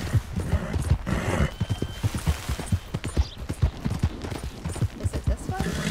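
Hooves clop in quick, repeated beats as horses trot close by in the video game Red Dead Redemption 2, with an occasional whinny mixed in.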